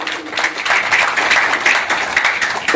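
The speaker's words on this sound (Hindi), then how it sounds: "जोरदार ताली सर।" An audience at a school Independence Day celebration claps in a continuous, dense wave of applause. It is loud and fairly close and holds steady for the whole stretch.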